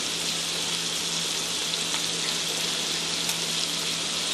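Vegetables seasoned with kosher salt fry steadily in a pan, a dense, even sizzle holding at the same close, moderate level throughout with no talking.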